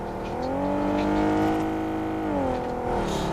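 A vehicle driven in the BGMI video game, a close engine hum holding steady and then shifting pitch as it revs, with no talk over it.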